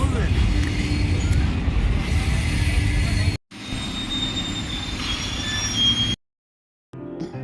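A train rumbles loudly close by with screeching wheels and clattering cars, the noise cutting out abruptly twice; people talk faintly under it.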